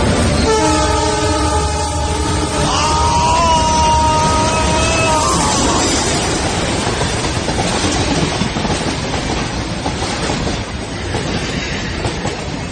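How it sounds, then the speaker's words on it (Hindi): A train rumbles past close by, sounding a long loud horn blast early on, then continuing with steady rolling clatter. "ट्रेन हॉर्न मारती हुई बिल्कुल ऐसा लगा जैसे अतुल के ऊपर से गुजरती हुई चली गई"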